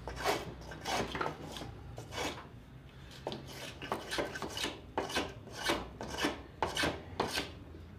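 A wood plane shaving along the grain to round off the corner of a wooden dowel held in a vise, a steady series of about a dozen rasping strokes, close and fairly loud.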